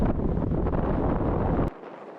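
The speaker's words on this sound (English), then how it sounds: "The wind is relentless today." Strong wind roars across the microphone while cycling into a headwind in Scotland. The buffeting rumble is loud and continuous, then drops sharply to a quieter hiss near the end.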